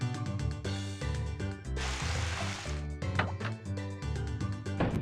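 Crops being watered in the farming game Harvest Moon: Back to Nature, heard as a single splashy pour of water in the middle of the clip, set against steady, upbeat in-game background music.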